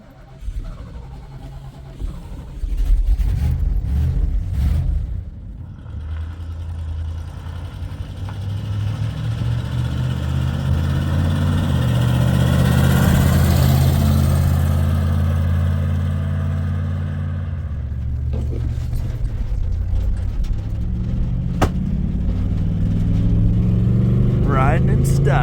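A 50-year-old Chinook camper's engine runs steadily on a test drive, a low continuous drone that swells and eases with speed as the vehicle rolls along, with people talking over it at times.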